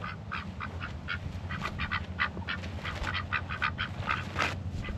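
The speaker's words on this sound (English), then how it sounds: "The ducks and the chickens are hanging out, having a good time." Several ducks quacking repeatedly in a busy, overlapping chatter, fairly close, with a low background rumble underneath.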